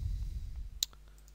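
A single sharp computer mouse click on a SharePoint page link, heard close and fairly crisp after a stretch of low background hum, with a couple of fainter clicks following.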